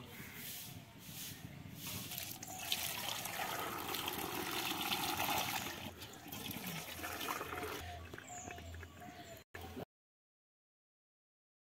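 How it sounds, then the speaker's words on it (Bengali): Whey drains steadily from freshly made chhena of homemade cow's-milk paneer through a cloth, a continuous close trickling and splashing of liquid lasting several seconds before stopping abruptly. "এভাবে দিয়ে রাখলে জলটা ঝরে যাবে।"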